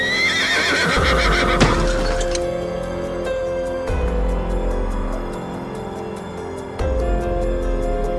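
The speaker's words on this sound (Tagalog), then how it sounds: "Walang nagawa ang driver na to nang biglang tumawid ang grupo ng mga kabayo." A group of horses crossing a road, with loud whinnying and neighing up front, some clip-clop of hooves, and deep rumbling thumps recurring under the calls.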